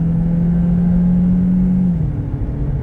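The 1.8-litre four-cylinder engine of a 2012 Chevy Sonic LS hums steadily from inside the cabin under road rumble, with a constant droning tone that drops slightly in pitch near the end.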